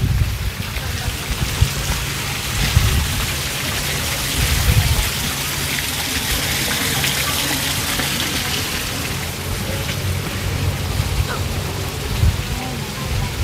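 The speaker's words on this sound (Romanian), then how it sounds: "Cascada iar." Steady, loud rushing of a garden waterfall at Queen Marie's Castle in Balchik, a continuous broadband roar of falling water that stays even throughout.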